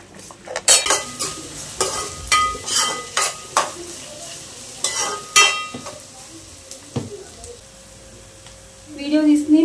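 A tempering for chicken curry sizzles in a pan while a metal spoon stirs and scrapes, giving repeated clinks and knocks in irregular bursts, with a louder hiss building at the end.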